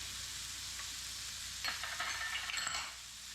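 Chicken thighs, green onions and mushrooms fry in a pan with a steady, close sizzle, joined midway by a few stirring scrapes and light clinks before it settles back to an even hiss.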